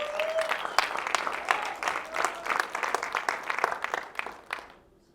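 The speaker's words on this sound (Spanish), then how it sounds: "Denle un fuerte aplauso al Rey." Church congregation claps and cheers in praise, with dense applause and scattered sharp claps. Voices are mixed in, and the applause tapers off toward silence at the end.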